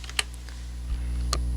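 A name typed on a computer keyboard: a few separate, crisp key clicks spaced apart over a low steady hum, with no talking.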